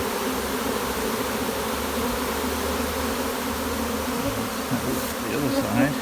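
A honeybee swarm scents and walks into a hive box, many bees on the ground creating a dense, continuous close-up buzzing hum with slight shifts in pitch and intensity.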